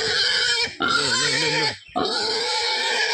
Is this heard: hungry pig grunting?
yes